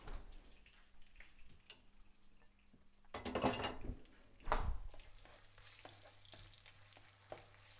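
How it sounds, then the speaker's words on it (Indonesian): Garlic and shallots sautéing in hot oil, a soft crackling sizzle broken by two louder bursts of spatter and stirring in the middle, with faint clinks of a utensil; no talk. "Sekarang kita tumis bawang putih dan bawang merah sampai harum."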